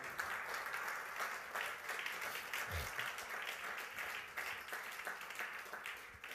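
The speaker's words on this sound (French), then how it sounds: "Est-ce que quelqu'un peut-il acclamer le roi des rois?" A church congregation applauds and cheers continuously, a dense wash of many hands clapping with crowd voices mixed in, steady and fairly loud for the whole stretch.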